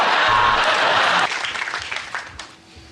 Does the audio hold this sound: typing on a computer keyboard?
no